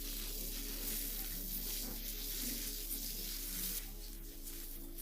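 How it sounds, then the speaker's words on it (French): Red onion frying in melted butter in a pan gives a steady, close broadband sizzle with a faint low hum running underneath and no voices. "Après avoir fait revenir l'oignon"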